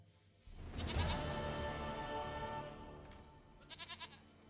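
A goat in The Witcher 3 video game lets out a long, loud, wavering bleat, followed by a shorter bleat.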